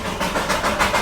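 The Darjeeling toy train rumbles along its rails toward Ghum station, a close, continuous rolling clatter with rhythmic wheel knocks recurring over about a second.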